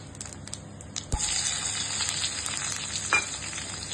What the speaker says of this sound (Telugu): ఇది ఒక 2 మినిట్స్ ఫ్రై కావాలి, మంచి బ్రౌన్ కలర్.